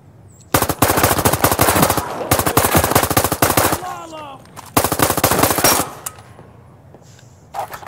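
Rapid automatic gunfire bursts loudly in the VR shooter game Zero Caliber, with long sustained rattling volleys broken by short pauses, close and dominant throughout.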